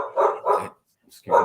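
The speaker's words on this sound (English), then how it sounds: "excuse my dog barking there" A dog barks indoors, three fairly close woofs: two in quick succession, a short pause, then a third, with faint voice bits in between.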